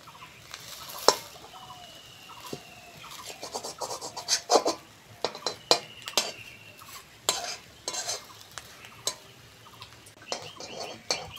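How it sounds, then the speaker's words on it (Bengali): Rolled fried eggs being cut into pieces in a home kitchen, a run of sharp, irregular knife taps and scrapes against a board over a faint background hiss, fairly close and with no talking. "চারটে ডিম 4 টুকরো করব"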